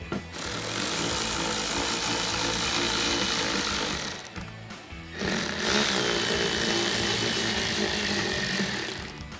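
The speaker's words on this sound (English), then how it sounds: "So we'll just remove that with our T20 Torx bit." Power driver with a T20 Torx bit backing out handle screws on a trunk lid of a 2011-2023 Dodge Charger, a loud continuous whirring buzz that pauses briefly then resumes, no talk.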